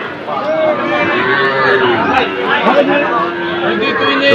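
Calves moo repeatedly, several overlapping bleating calls close by, over a busy crowd murmur of a cattle market.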